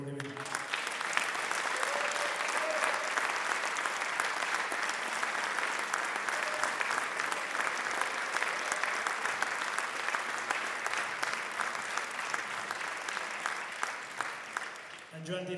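A concert audience applauds instrumental soloists with loud, steady clapping from a large crowd, dense and continuous for about fifteen seconds before it thins slightly at the very end.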